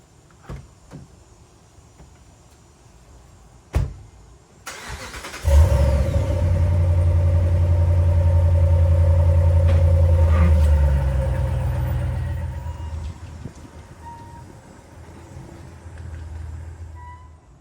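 A cold pickup truck with a 5.7 V8 Hemi engine starts up: a couple of clicks, the starter cranks, then the engine catches with a loud burst and settles into a deep, steady idle rumble that slowly eases down.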